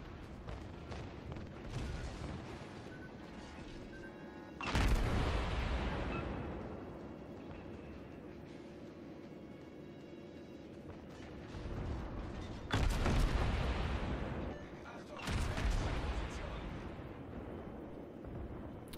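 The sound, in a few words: battleship artillery fire from the New Mexico, World of Warships video game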